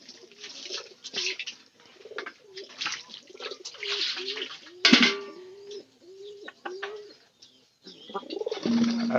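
Pigeons coo in a loft, with repeated soft rolling coos and a few sharper bird calls close by, one cooing run after another across the whole stretch.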